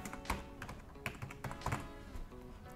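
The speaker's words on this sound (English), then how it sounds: "So if I were to type Aishwarya," A name being typed on a computer keyboard: quiet, quick, irregular key clicks and taps in a short run, close and with no talk.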